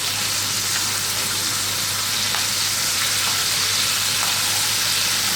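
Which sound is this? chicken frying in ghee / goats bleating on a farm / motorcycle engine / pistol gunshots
chicken frying in ghee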